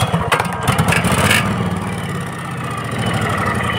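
A Vanguard engine running on lawnmower petrol chugs steadily and loudly close by, with some rattling early on before it evens out.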